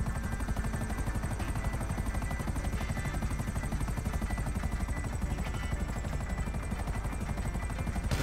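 Business helicopter in GTA, its rotor throbbing in a fast, steady, even chop with a buzzing engine drone, constant and moderately close throughout.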